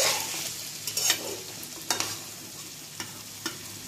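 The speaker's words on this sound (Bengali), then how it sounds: "মাঝে মধ্যে ঢাকনা উঠিয়ে একটু নাড়াচাড়া" A spoon stirs chicken and potato curry in a pan for Bengali-style aloo jhol, making several sharp scraping strokes at an irregular pace over a soft, steady sizzle. No one talks.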